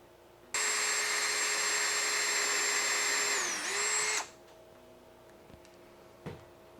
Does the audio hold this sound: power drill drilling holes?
yes